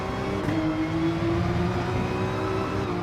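A race car engine in a racing game holds a loud, continuous note under hard throttle. Its pitch steps briefly with gear changes, then resumes a steady accelerating whine with no talking.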